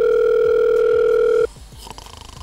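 A telephone tone sounds as a call is placed, a steady loud tone that cuts off abruptly after about a second and a half, followed by quieter line noise.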